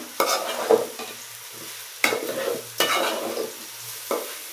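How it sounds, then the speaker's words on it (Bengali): Rice with green chillies stirred and frying in a pan, nearby scraping stirs coming in four distinct bursts over a soft steady sizzle. "এখন এটা হচ্ছে ভাজা ভাজা হওয়া অবধি পর্যন্ত খুব নাড়তে হবে"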